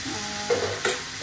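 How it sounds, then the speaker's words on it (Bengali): Chicken keema sizzles in a hot pan under a few quick scraping stirs of a spoon, close and clear, with no talking. "নাড়ছি।"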